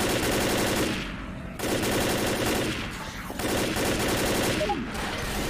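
Rapid automatic gunfire from the zombie game Left 4 Dead rattles loud and continuous in three long bursts separated by brief gaps.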